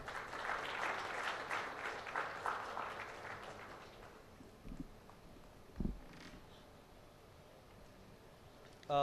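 An audience at an insurance summit and awards event applauds, the clapping fairly faint and diffuse, fading out after about four seconds into low room noise with a couple of soft thumps.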